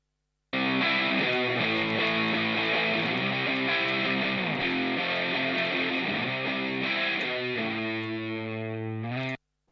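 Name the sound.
electric guitars through amp simulator plugin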